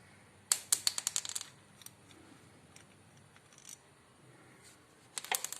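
A wrench ratchets in quick clicking bursts while a bolt is removed from the rear brake of a Benelli Imperiale 400. The clicks are close and sharp, with a quiet stretch between the runs.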